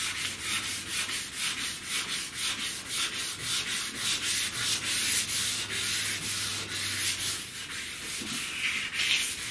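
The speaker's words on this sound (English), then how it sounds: "You're not trying to rub the filler out." Sandpaper rubs over body filler on a car panel in steady back-and-forth strokes, a close, even scratchy hiss repeating in a regular rhythm without any talk.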